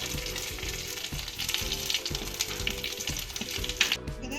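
Mustard seeds and curry leaves sizzle in hot oil for a sweet Robusta banana pachadi, with a close, continuous frying hiss and rapid crackling pops throughout.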